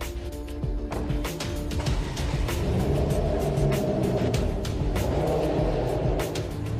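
A tuning shop's new company SUV, a 305-horsepower LPG-converted vehicle, travels down the road with a steady low engine rumble and road noise inside the cabin, plus occasional soft clicks.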